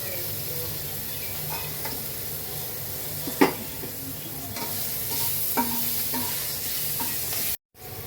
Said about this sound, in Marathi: तर तेल थोडं गरम झालेलं आहे. मी मिरची टाकते.